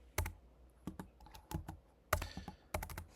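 Keys clatter on a computer keyboard in short, irregular bursts of clicks with brief pauses between them, close and fairly clear, with no talking.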